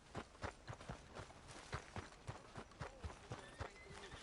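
Horses walk on hard ground in the video game Red Dead Redemption 2, their hooves clip-clopping in a steady, fairly quick rhythm of distinct strikes, moderately close and heard alone without talk.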